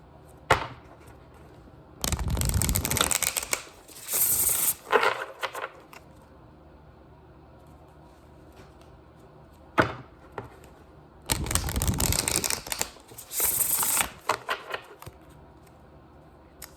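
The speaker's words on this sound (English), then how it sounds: "These are really big cards, so they're hard to shuffle." Bursts of crisp riffling and slapping as a deck of oversized oracle cards is shuffled, in a few clusters separated by quiet pauses.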